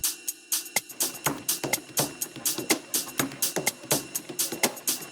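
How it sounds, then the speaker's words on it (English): Percussion loop in an electronic track, busy clicky hits in a quick, repeating syncopated groove, moderately quiet and crisp, with no talking over it. "And then this cool percussion loop filling up the sides."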